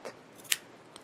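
A single crisp snip of scissors cutting sewing thread after a knot is tied, short and close, with a faint click near the end; no voices.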